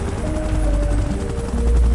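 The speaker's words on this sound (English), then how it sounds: "Chopper in position." Helicopter in the BGMI Godzilla vs Kong game mode: a loud, steady rotor drone with low pulsing thumps and engine whine, continuous and close, rising slightly toward the end.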